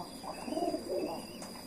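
A pigeon coos softly, a low rolling burble in two short phrases, faint and close against a steady background hum.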